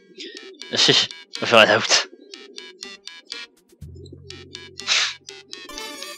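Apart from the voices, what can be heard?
pigeons cooing in the video game Hiveswap Act 1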